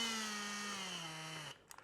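A Ryobi power tool whines steadily and faintly with its pitch sliding gradually lower as the speed is switched down, then it stops, leaving a few small clicks and handling noises.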